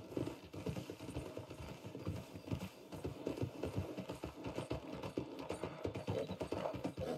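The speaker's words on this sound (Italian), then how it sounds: "Sì, è un cavallo." Horse hooves clip-clopping in Red Dead Redemption 2 on PC, a steady run of fairly quiet, regular hoof thuds continuing throughout with no one talking over them.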